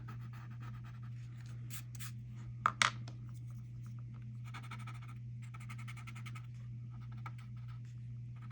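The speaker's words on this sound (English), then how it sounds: "I like using this colored pencil as a shading tool." Colored pencil shading on paper while drawing a Zentangle-style bird: soft, close scratchy strokes in several bursts, with a couple of sharper taps and a steady low hum underneath.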